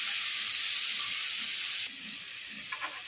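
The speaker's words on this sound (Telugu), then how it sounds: "వంకాయ ముక్కలు, టమాటా ముక్కలు, పచ్చిమిర్చి కట్ చేసుకొని ఆయిల్లో ఫ్రై చేయాలి." Brinjal, tomato and green chilli pieces fry in hot oil, giving a steady, close sizzle that drops slightly in level partway through, with a few faint clinks near the end.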